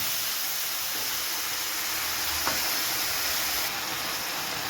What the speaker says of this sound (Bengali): এবার দিয়ে দেবো আদা রসুন লঙ্কা বাটা এটাকে কষাবো